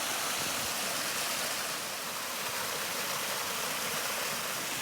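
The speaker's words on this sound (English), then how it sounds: "Nice little stream. Got a nice little waterfall here." Steady rushing water from a small stream with a little waterfall at McCormick's Creek State Park, a continuous broadband wash close by, with no voices.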